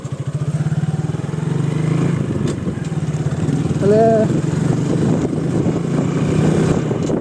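A Bajaj Apache 200 motorcycle drones along the road with a steady, throaty engine pulse. Its pitch shifts slightly as it is ridden, a voice speaks briefly over it, and a horn-like tone rises midway.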